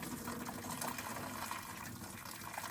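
Water pours and gushes steadily into a kitchen sink while gnocchi are drained, a faint, continuous rushing stream without pause.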